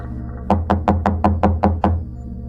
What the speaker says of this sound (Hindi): जाकर दरवाजा खटखटाया।